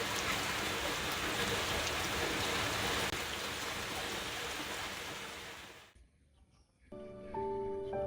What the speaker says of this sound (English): A new day greets me, with rain slapping against my face.